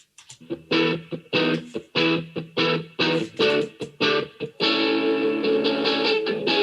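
A distorted guitar amplifier in a recording studio, captured with dynamic and condenser microphones, plays a run of loud, chopped, rhythmic chords that give way to a longer sustained distorted chord.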